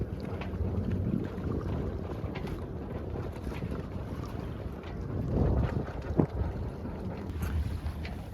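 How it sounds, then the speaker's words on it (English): Wind rushes over the microphone aboard a sailboat in Elliott Bay along the Seattle coastline, a constant broadband roar with gusts and a few knocks from the boat. "the wind's coming from that direction of us"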